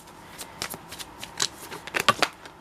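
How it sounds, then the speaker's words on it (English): Tarot cards being shuffled and pulled from a deck, a series of quick papery riffles and snaps that turn denser and louder near the end, with no talking. "Let's keep pulling cards"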